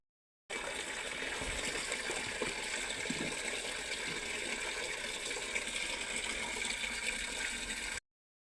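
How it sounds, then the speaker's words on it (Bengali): Water pours onto dry potted plants in a steady, continuous gush that starts abruptly and runs unbroken until it cuts off, close by and fairly even in level. "দেখুন বন্ধুরা গাছে জল দিচ্ছি, গাছগুলো সব শুকনো হয়ে গেছে।"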